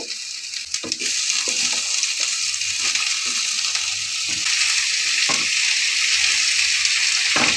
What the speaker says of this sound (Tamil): வெங்காயம் வந்து நல்லா வதக்கியாச்சு ரொம்ப வதக்க தேவையில்ல கொஞ்சம் அந்த அளவு வதக்கினா போதும் வந்து தக்காளி எல்லாம் சேர்த்துடணும்